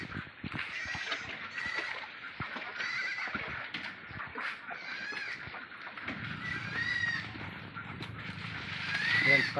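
Farm animals crowd together in a noisy yard, with honking, goose-like calls and bleats overlapping almost without pause, plus a low rumble building in the last few seconds; one bleat could come from a goat among the flock.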